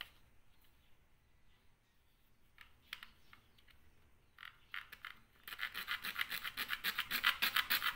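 A part is sawn by hand while a lighter igniter is turned into a toy gun. Quiet handling comes first, then rapid, steady rasping strokes start about halfway through and grow loud and close toward the end.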